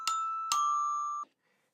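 Bell samples played through an RC505 loop station, two bright ringing strikes with a sustained pitched tone that cuts off abruptly, clear and alone.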